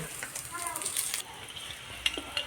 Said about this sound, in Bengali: গরম হয়ে গিয়েছে তেলের উপর শুকনো লঙ্কা দিয়ে দিয়েছি এখন দিব কালিগিরা